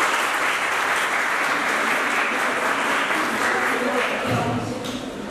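Audience applause at a college event, a dense, steady roar of many hands clapping that fills the whole stretch at constant loudness and eases off slightly at the end.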